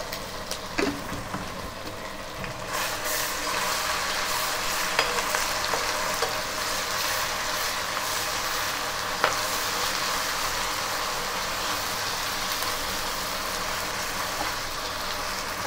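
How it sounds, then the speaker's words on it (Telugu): Chopped ginger fries with browned onions in oil as the base for a fish curry, making a steady close hiss with occasional crackles and a few light utensil clicks near the start. "అల్లం కూడా మంచిగా వేగిందండి."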